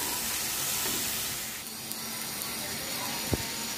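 Onions frying in a pan until golden brown for white chole, a continuous close sizzle and hiss with a few faint clinks of stirring.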